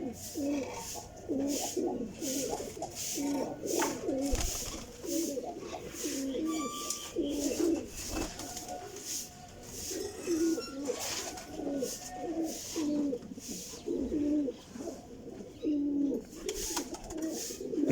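Golden and Sialkoti flying pigeons coo steadily in repeated soft rolling phrases, several birds overlapping close by with a faint background hum and occasional distant chirps.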